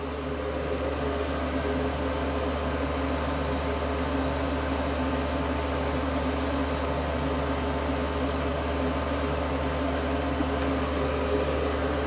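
A spray bottle lightly mists weathering liquid onto model train parts, giving a steady hiss broken by a series of short spray bursts over a constant background hum.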